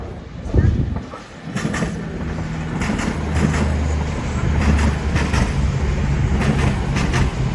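A CrossCountry Voyager train moves through Doncaster station at night, a steady diesel rumble and rolling wheel noise with a sharp knock early on, sustained and fairly close.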